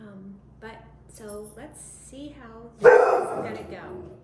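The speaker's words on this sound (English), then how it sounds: "That was my dog." A pet dog barks loudly in a short burst near the end, after someone speaks calmly in a home kitchen setting.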